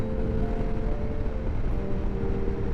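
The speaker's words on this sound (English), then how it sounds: "The sound the exhaust makes when you quick shift up and down is lovely." Steady, droning exhaust of a 2025 Yamaha Ténéré 700 Rally motorcycle with a low rumbling tone, close and continuous, with a brief dip in pitch partway through as the quickshifter changes gear.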